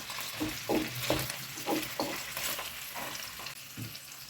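A vegetable sauté base sizzles steadily in a hot pan over very low heat, with a few soft stirring scrapes and clinks breaking through the crackle, close by.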